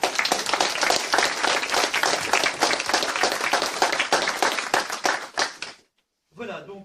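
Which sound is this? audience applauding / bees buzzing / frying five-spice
audience applauding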